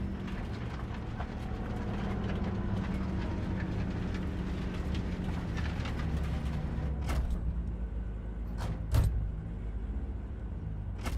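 Train in the video game Cyberpunk 2077 rumbles steadily with a loud, continuous rolling roar, followed near the end by a few sharp metallic clanks.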